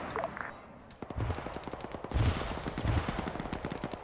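Gunfire in the Arma military video game: dense, rapid bursts of shots with a few heavier reports, steady and fairly close, heard beneath voices talking over radio chatter.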